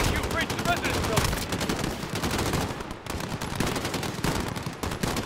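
Sustained automatic gunfire from a firefight during an embassy breach in Call of Duty Modern Warfare, dense rapid bursts filling the scene almost nonstop, with a voice speaking faintly underneath.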